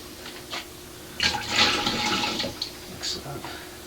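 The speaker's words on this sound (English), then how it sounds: "Take some water, put some water in there." Water splashes and gurgles as it is poured into a Mr. Beer home brewing kit, a short rushing pour of a few seconds, close and fairly loud, with a faint voice underneath.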